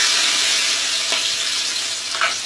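Onions fry in hot cow ghee on a lowered gas flame, giving a loud, continuous crackling sizzle close by, with a couple of faint stirring touches and no talking.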